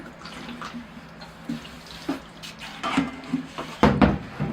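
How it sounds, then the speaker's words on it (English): Water is poured over the moss on a Vietnam-style ficus bonsai, a soft splashing and trickling that swells in uneven bursts and grows louder toward the end, close by and without speech. "I'll give that a water just to kind of flush any dirt out of the moss."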